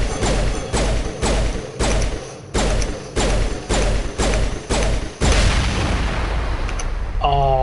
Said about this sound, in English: That's a nice looking explosion.